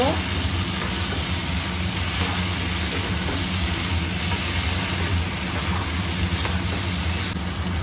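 Soybean chunks and capsicum fry in a pan as they are stirred, a steady, dense sizzle that holds loud and even throughout, close up and without talking.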